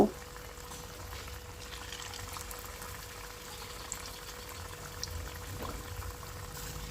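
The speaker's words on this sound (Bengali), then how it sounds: "কড়াইতে এক ব্যাচ দেওয়া হয়ে গেলে চুলা রাসটা লো টু মিডিয়ামে রেখে এপিটোপিট করে লালচে করে এগুলো আমি ভেজে নেব" Bitter gourd slices deep frying in oil in a wok over low to medium heat, giving a steady, moderate bubbling hiss that runs evenly throughout with no other sounds on top.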